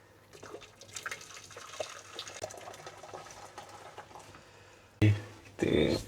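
Water pours into a hotel room coffee machine in brief splashy bursts near the end, following quiet handling and faint background noise, while a person talks beforehand.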